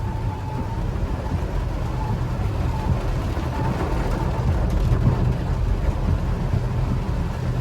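A car engine runs steadily while the car drives through deep floodwater, a continuous low rumble mixed with broad water noise, loud and close, with no speech.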